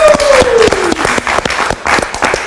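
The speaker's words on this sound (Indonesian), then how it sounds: "kita kasih tepuk tangan untuk Angel Priscilla" Live audience applauding a guest named Angel Priscilla during an Indonesian talk-show event, steady dense clapping throughout with a brief tone sweep at the start.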